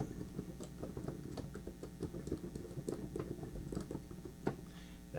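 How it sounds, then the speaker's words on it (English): Unpowered keys of Casio PX-S1000 and Roland FP10 digital pianos are played, giving a close, dense patter of soft thumps and plastic clicks with no musical tone and no voices. "let's just hear the keys with no instruments."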